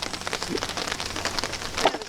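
Rain falls outdoors in a steady, soft patter of drops striking surfaces, fairly faint and even throughout, with no talk.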